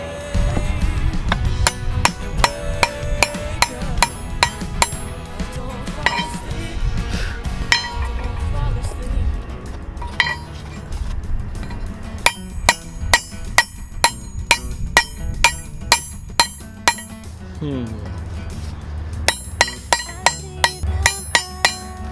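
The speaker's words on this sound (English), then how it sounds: "hitting directly in the center of it with the ball peen hammer" A ball peen hammer strikes a deformed steel wrench ring, sending out many sharp metallic clinks. The blows come in uneven bursts, loud and close, with a brief pause partway through before a rapid run of strikes resumes.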